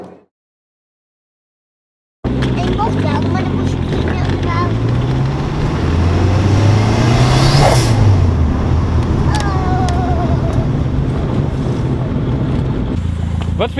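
Renault 5 GT Turbo starts after a brief silence, then its engine climbs and falls in pitch as it accelerates hard, loud and close, with a rising whine near the middle of the run.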